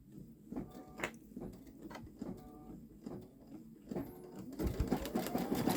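A Babylock Solaris Vision embroidery machine stitching a Roblox design, with rhythmic mechanical thumps and whirs at a steady pace, fairly quiet and close.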